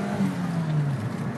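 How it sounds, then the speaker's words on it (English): A 1991 Suzuki Swift GTI accelerates hard in first gear on a wet surface with wheel spin, its engine note rising and sweeping close by in a short, loud burst. "Quite a lot of wheel spin in first gear there"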